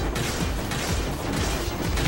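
Cannons in the Sine Mora shooter keep firing at the player's ship, a dense, continuous roar of blasts and crunching impacts that stays loud from start to finish.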